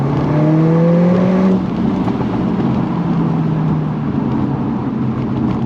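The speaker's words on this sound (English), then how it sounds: "It did launch pretty aggressive, but it's spinning, you can tell." A turbo drag car launches at Crail Raceway, its engine note climbing in quick rising sweeps for about a second and a half before dropping into a broad, roaring wash as the wheels spin, heard from a moderate distance.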